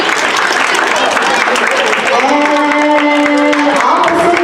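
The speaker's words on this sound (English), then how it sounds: "All right, let's give them a round of applause out here." Audience applause with some cheering at a school hoop dance performance, dense and steady clapping that continues throughout, with a voice and a sustained tone joining partway through.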